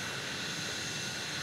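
A jet airplane takes off, a steady loud roar of broadband engine noise held without change through the short stretch.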